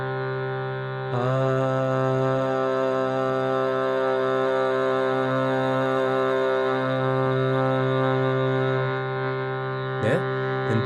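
Steady drone of a bordão instrument held on one pitch for mantra singing, a rich harmonic tone sustaining for about ten seconds, swelling slightly as it begins, fairly loud and close, with a brief clatter near the end.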